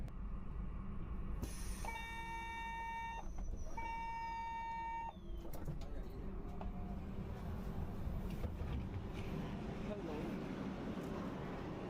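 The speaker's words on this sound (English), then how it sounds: "Please mind the gap and height difference between the train and platform." A train at a station platform: a two-tone electronic chime rings out twice over a steady low rumble, then the rumble and platform noise carry on alone.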